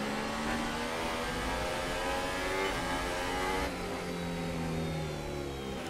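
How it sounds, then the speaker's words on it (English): A Formula 1 car in the F1 2018 racing video game revs for burnouts, a loud high-pitched engine whine rising and holding, continuous and up close. "Just let them go for a bit so we can have some space to do some burnouts."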